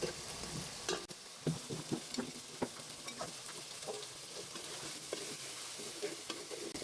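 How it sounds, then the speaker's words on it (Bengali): Fried chapila fish is stirred and turned in a hot pan, giving a steady close sizzle broken by scraping, clattering strokes of the spoon, with no talking. "ভাজা মাছটা দিয়ে ফিরে কয়েকটা নাড়াচাড়া দিয়ে"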